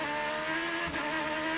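IndyCar race cars at Barber Motorsports Park run their engines, giving a loud, sustained high-pitched engine whine with a brief swell as a car passes, with no voices.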